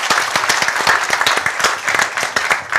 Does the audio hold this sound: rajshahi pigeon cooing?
no